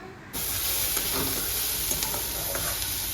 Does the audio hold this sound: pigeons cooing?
no